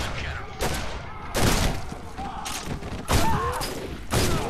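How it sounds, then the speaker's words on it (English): Point-blank shotgun blasts in the first-person horror game Condemned 2: four heavy, booming shots spaced roughly a second apart, each a loud broadband burst with a short thudding tail over faint background game noise. "Point blank shotgun blasts to the face?"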